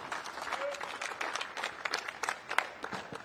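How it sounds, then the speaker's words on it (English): Audience applause at a basketball coaching conference, a steady wash of many hands clapping at moderate distance, continuous for a few seconds with uneven peaks and no speech over it. "can we give him a nice round of applause"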